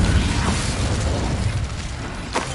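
A Confringo spell explosion in Hogwarts Legacy gives a sustained roaring, rumbling burst that stays loud throughout, with a brief whooshing swell near the end.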